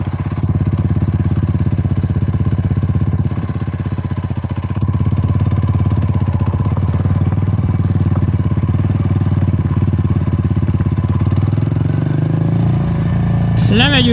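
A Kawasaki Meguro S1 / W230 motorcycle engine runs steadily with a deep exhaust rumble close by, lasting throughout, with a rising rev near the end.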